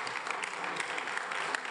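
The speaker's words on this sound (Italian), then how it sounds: "L'applauso è per tutti loro." Audience applause at an event in Rome, a brief stretch of quiet, somewhat distant clapping from many hands with scattered sharper claps poking through a steady patter.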